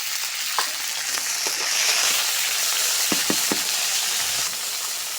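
Onions fried until red sizzle loudly in a pan after a splash of water goes in, a steady crackling hiss with a few sharp clicks of a spoon stirring against the pan.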